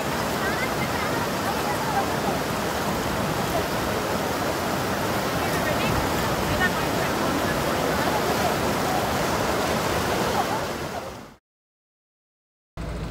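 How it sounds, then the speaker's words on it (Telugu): Cold glacier meltwater rushes at Gangotri in a dense, continuous roar, loud and close, holding steady before cutting abruptly to silence near the end. "ఆ మౌంటైన్ ఆ వాటర్ కరిగే వస్తుందన్నమాట, గ్లేషియర్ వాటర్."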